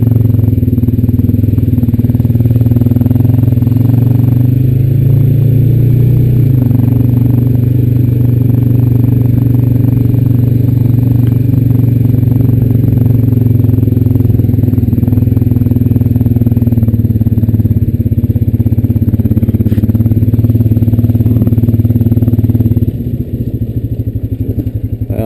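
Honda Rancher 420AT ATV in two-wheel drive on a muddy trail, its mid-pitched engine droning loud and steady close by with light clatter, then easing off near the end.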